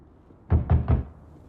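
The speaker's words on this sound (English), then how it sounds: "Ryan Gosling knocks on her door to coax her out" Three firm knocks on a door in quick, even succession, loud and close against a quiet background.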